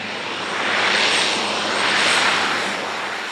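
Steady broadband roar of a fixed-wing airplane's engine heard from aboard as it prepares to land at a safari camp in Kenya, swelling slightly and holding loud and close throughout with no talk.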